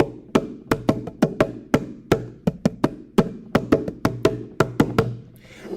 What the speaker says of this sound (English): So if we were to play our drum really loud, you'd be able to hear me play forte